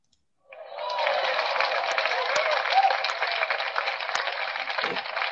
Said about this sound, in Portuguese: eu coloquei aqui um aplauso